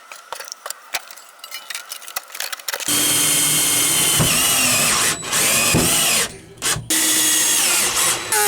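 A power drill bores out a broken seatbelt mount in a Ford F150 interior using an easy out, preceded by metallic clinks and rattling, then a loud sustained whine that cuts off briefly twice.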